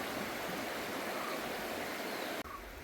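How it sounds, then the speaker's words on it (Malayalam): A shallow river in Attappadi flows over stones and rocks, a steady broadband rushing wash that continues evenly without pause, dipping briefly near the end, with no talk. "കല്ലിൽ പുഴ എന്ത് ഭംഗിയിൽ ഒഴുകണ് നോക്ക്"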